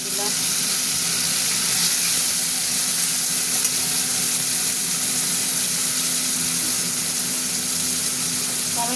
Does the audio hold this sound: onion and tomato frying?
yes